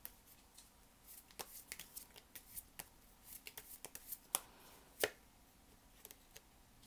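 Tarot cards are shuffled and drawn close up, with a long run of crisp, irregular riffling snaps and card slaps, some sharper and louder than others, with no talking.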